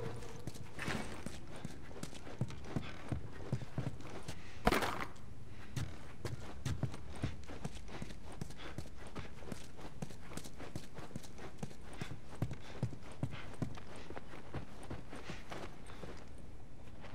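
Horse hooves clip-clop steadily in The Last of Us, a regular walking rhythm of fairly close hoofbeats on hard ground, with faint ambient background and a brief louder thud partway through.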